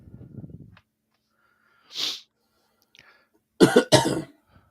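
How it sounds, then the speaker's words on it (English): A faint low murmur, then a sniff, and a close, harsh double cough near the end. "Oh, still coughing, of course, but not bad."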